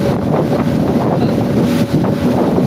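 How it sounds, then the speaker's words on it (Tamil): A boat speeds across open sea water on a coastal trip, its rushing spray and engine swallowed by steady, loud wind buffeting the microphone throughout with no break. "கடல் தண்ணீரில் சீறி பாய்ந்து செல்லும் போட் போட் பயணம்"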